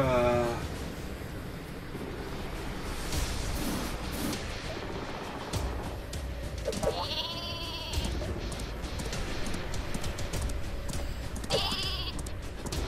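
Bleating, sheep-like calls of the Super Sheep weapon in Worms W.M.D ring out twice amid busy game sound effects, crashes and whooshes, with a voice talking underneath.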